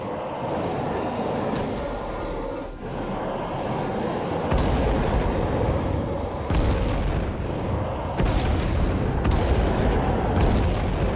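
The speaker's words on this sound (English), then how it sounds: "I do have some radio commands that could potentially help us. Starting with an airstrike." Airstrike bombing in the video game State of Decay 2: continuous heavy booming explosions and artillery-like blasts, loud and dense, with several sharp fresh impacts rolling in one after another.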